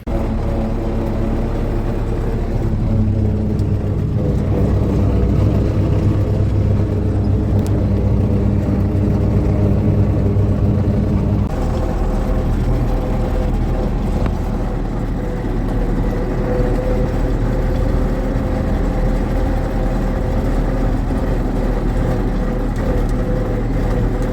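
A vehicle drives home towing a trailer loaded with about three tonnes of harvested soybeans, its engine humming loudly and steadily from inside the cab with a brief change in tone partway through, and no talking.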